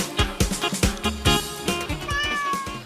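A cat meows insistently inside a house, a rapid string of loud, close, pitched cries followed by a longer drawn-out wail, with no talking.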